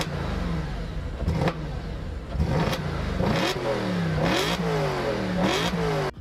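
An old Audi RS4 engine revs repeatedly, with several sharp rises and falls in pitch and crackling bursts between them. It is loud and fairly close, with steady engine drone underneath.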